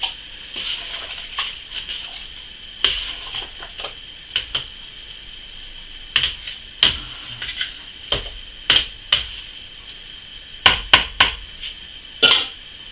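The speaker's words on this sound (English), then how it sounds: "There we go, mix in the koji." Koji being mixed into rice mash for homemade sake, a series of irregular knocks and clacks from stirring in a container, close and fairly sharp against a quiet high hiss.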